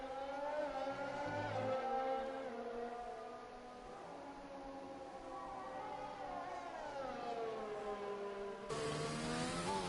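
Williams Formula 1 car engine in the F1 2020 racing game at the French circuit, a loud continuous high-pitched whine rising and falling with gear shifts through a lap, without talk.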